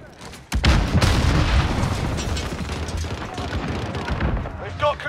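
A grenade blast in Call of Duty Modern Warfare hits hard about half a second in, then rolls into a long, dense rumble of battle noise with scattered gunfire-like cracks, loud and close, with game voices faint underneath.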